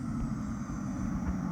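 A simulated aircraft engine runs at full throttle in the Infinite Flight simulator game, giving a loud, steady roar with no talking.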